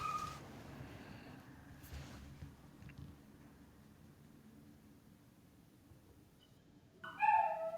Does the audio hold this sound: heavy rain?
no